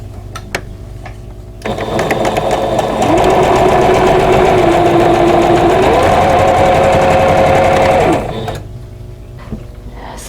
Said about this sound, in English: I'm going to sew it from this side so that I can keep from flipping over the seams when I'm sewing